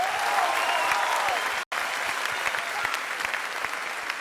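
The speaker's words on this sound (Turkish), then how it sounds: "Sonra kocaman alkış bu değerli koloya." Big, sustained applause from a television show audience for a small choir, dense and even clapping with a momentary gap partway through.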